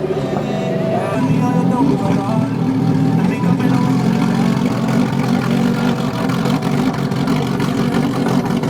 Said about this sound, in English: listen to the idle, dude. That's insane.